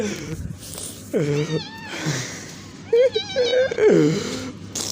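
A cat meows repeatedly up close, several drawn-out, wavering cries in a row, with background chatter and room noise around them.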